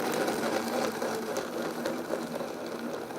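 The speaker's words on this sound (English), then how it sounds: "Gonna blend that, so you guys know how you can use the Vitamix." A Vitamix blender runs steadily with a dense whirring motor roar and gritty churning of the cream cheese mixture, close and continuous.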